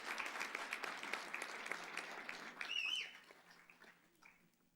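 Applause rises at a fall 2024 nurses pinning ceremony: a crowd claps fairly quietly, as if heard from a distance, holding steady for about three seconds before trailing off into near silence.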